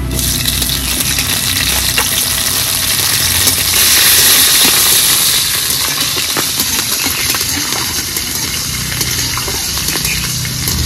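Slit green chilies dropped into hot tempering oil with spices while cooking pea greens, giving a loud, steady, close sizzle and hiss that continues throughout with no talking.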